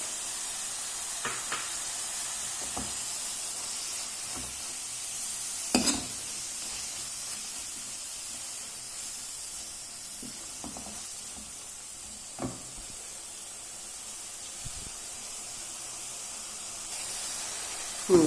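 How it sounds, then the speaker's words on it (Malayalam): Ginger garlic paste frying in a pan for a green peas curry, a soft, steady hiss of sizzling oil broken by occasional scraping stir strokes, fairly faint and without speech. "ഇത് നമുക്ക് കുറച്ച് ഇഞ്ചി വെളുത്തുള്ളി അരച്ചതിടാം"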